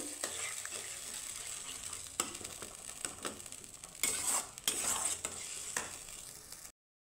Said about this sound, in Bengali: এখন মশলাটাকে আমি একটু হালকা করে নাড়ে চাড়িয়ে দিব।